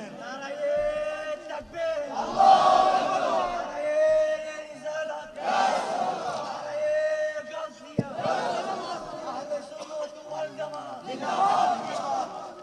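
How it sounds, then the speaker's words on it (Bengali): A large sermon crowd in Maheshkhali shouts the takbir in loud unison, several rising roars in a call-and-response pattern, with a preacher's amplified voice leading between the shouts. "জোরে একটা তাকবীর দেন।"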